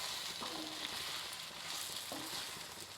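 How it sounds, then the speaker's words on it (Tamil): Idli pieces tossed and stirred through spice powder in a pan, giving a steady close sizzle with soft scraping stirs and no talk. "இப்போ அந்த பொடியில் ஃபுல்லாக இட்லி கலந்து வரட்டும்."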